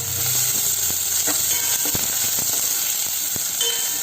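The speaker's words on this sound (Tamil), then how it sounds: "வெங்காயத்தை நல்லா வதக்கிடுங்க" Onions fry in oil with cardamom, cinnamon, cloves and fennel, a dense, constant sizzle and hiss with occasional light stirring clicks, close and fairly loud.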